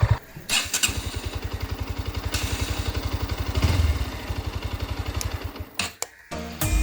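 A Bajaj Pulsar motorcycle's self starter motor, just repaired, cranks with a steady rapid chugging rhythm for several seconds, loud and close, then cuts off briefly and restarts at the end.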